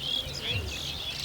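Egrets in a flock call outdoors near fishing water, giving faint, scattered high chirps and cries over a steady insect-like buzz, with no talk.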